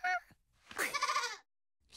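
A cartoon goat in Curious George bleats once, loud and close, a wavering nasal cry after a short vocal sound, then quiet.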